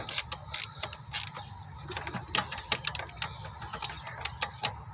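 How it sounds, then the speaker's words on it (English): Ratchet tightening bolts during an EGR valve replacement on a Ford Freestar, quick bursts of metallic clicking in an irregular rhythm, close and fairly loud, with no talking. "So then once you got it in there, snugged in, tighten up your bolts."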